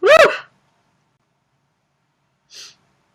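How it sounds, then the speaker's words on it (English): A single sharp sneeze bursts out close to the microphone at the start, followed by a long silence and a brief faint breathy sound near the end. "Excuse me, I gotta sneeze."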